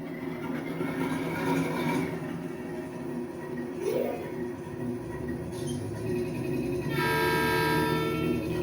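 An N scale model train running on a GE sound card inside a Kato sound box, giving a steady electronic locomotive rumble with a brief horn-like tone partway through and a brighter buzzing burst near the end.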